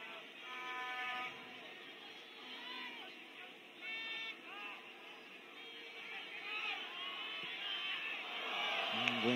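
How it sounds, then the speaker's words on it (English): A football crowd at Likas Stadium in Sabah gives a broad, swelling groan under steady stadium hubbub, distant and diffuse, while a commentator talks over it. "Groans and moans from the Likas crowd."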